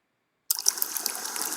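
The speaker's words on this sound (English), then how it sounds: "You can hear the ocean." An ocean sound effect in a Unity game scene starts abruptly after a short silence, a hissing, watery wash with small splashy fluctuations, moderately loud and continuous.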